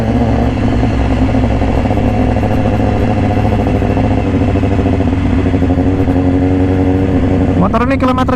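A red 2018 BMW S1000RR fitted with an Austin Racing exhaust rides along at a steady loud engine drone with a gritty exhaust rumble, heard close from the bike, and a sharp shift in pitch near the end.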